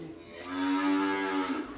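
A single long, low moo from a cow in a cattle pen rises and fades over about a second and a half, close and clear with no talking.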